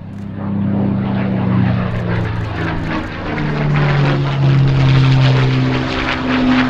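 Rolls-Royce Griffin piston aero engine of about 35 litres, a loud deep propeller-driven drone with a throbbing beat that rises and swells as it passes close, heard alone.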